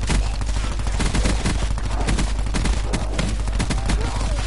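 Rapid gunfire from shooting zombies in Call of Duty Blackout, a dense run of close, loud shots for several seconds, with game ambience and some talk underneath.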